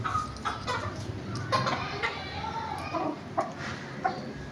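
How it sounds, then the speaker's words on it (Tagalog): Three gray chicks and their hen clucking and cheeping close by, with short soft calls scattered throughout over a busy background while a voice talks. "Yun naman pong tatlong sisiw na ang kulay gray."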